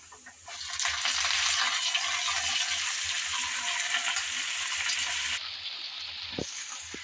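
Red amaranth greens hit hot oil already holding fried dried chillies, onion and garlic, raising a loud, dense sizzle that holds steadily for several seconds before easing off, with a couple of utensil knocks at the end.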